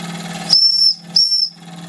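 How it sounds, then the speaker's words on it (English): A Wilesco D455 toy steam engine, just repaired and running on steam, sounds its whistle twice: two shrill, steady high-pitched blasts of about half a second each, loud and close, separated by a short gap over a soft hiss of steam. "I love Wilesco whistles"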